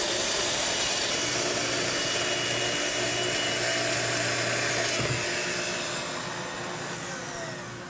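Festool TS 55 plunge saw cutting plywood along a guide rail, a loud steady whine with dense broadband rasp that runs continuously, then tapers slightly as the cut finishes.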